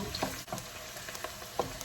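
Steady close sizzling and crackling of vegetables frying in a hot wok, with occasional faint stirring clinks, no voices.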